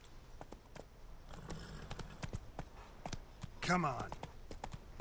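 Roach the horse clip-clops on its hooves in Witcher 3, a rhythm of light hoofbeats with one louder clatter near the end. Someone speaks briefly over the sound.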